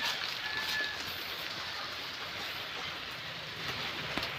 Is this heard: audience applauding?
no